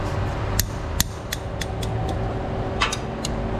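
Ratchet wrench clicking while removing bolts on a Nissan Altima's A/C compressor, a series of sharp, irregular metallic clicks over steady low background noise.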